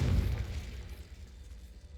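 Confringo fire spell blast in the Hogwarts Legacy video game: a loud, booming burst at the start that rolls off into a fading low rumble over two seconds.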